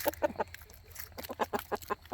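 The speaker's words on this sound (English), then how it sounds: "Three roosters and a mama chickie" Three roosters and a mother hen on a homestead cluck in quick rhythmic bursts on a rainy morning, a series of short, fairly close calls with brief pauses between them.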